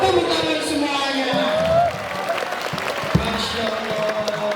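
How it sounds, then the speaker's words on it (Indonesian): An audience at an Isra Mi'raj religious gathering applauds in a steady, moderately loud wash of clapping. Voices and crowd murmur mix in throughout. "Tepuk tangan semuanya."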